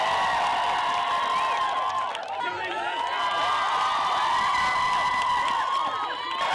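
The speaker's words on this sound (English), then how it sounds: "So let's give them a big clap." A lively crowd at a student charity fundraising event cheers and whoops loudly, with high shouting voices over scattered clapping, sustained at full volume throughout.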